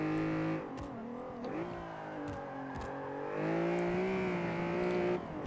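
A front-wheel-drive car lapping the Nürburgring in Forza 5, its engine droning steadily with harmonic whine that dips and climbs through gear changes, then swells louder as the revs build toward the end.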